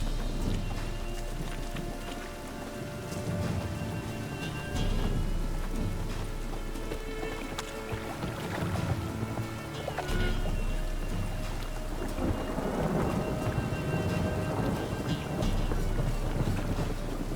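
Continuous rain pours down with a low rumble of thunder and watery background noise, steady and fairly loud throughout, in the video game The Witcher 3: Wild Hunt.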